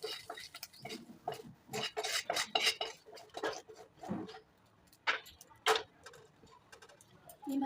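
A fried egg is lifted out of a frying pan with a metal utensil: close, irregular clinks, taps and scrapes against the pan, with no one speaking.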